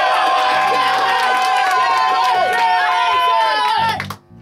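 A live crowd cheers and whoops loudly for a guitar contestant at a rock school guitar-off. The roar is sustained and dense, with shouting children among it, then it fades suddenly at the end.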